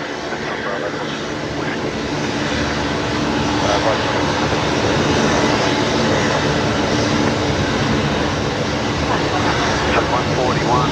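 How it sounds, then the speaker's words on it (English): Qantas airliner on its takeoff roll from Brisbane runway 19 left, a steady, loud, broadband jet engine roar that builds slightly and holds throughout. "This is Qantas 613 heading off to Melbourne this morning. Runway 19 left. Here we go."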